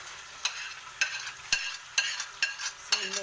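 Alexandrian-style liver frying in oil in a pan, with a sharp utensil scrape or clack roughly every half second over a continuous close sizzle, and a brief spoken word near the end.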